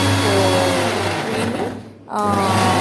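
Blender grinding broccoli and almond soup into a paste, a loud steady motor whine that briefly cuts out and restarts, close and alone.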